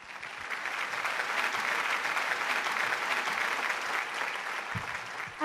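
A mushaira and kavi sammelan audience in Dubai applauds steadily, a dense even wash of many hands clapping at a moderate distance, sustained for several seconds without speech.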